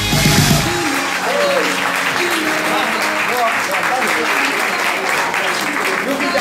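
Loud, sustained applause from a concert audience welcoming a former Operación Triunfo contestant onto the stage at a Block & Roll show, with dense clapping and a few cheers running steadily throughout.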